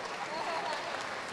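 Steady applause from an audience after speakers at a political gathering, a dense even wash of clapping throughout with faint voices mixed in.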